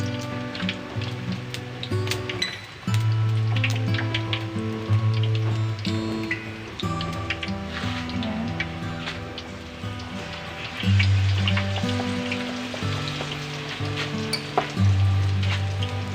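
Papaya fritters (ukoy) deep frying in hot oil, giving a steady crackling sizzle with scattered pops, plus tonal hums and occasional clinks over the frying, and no talk.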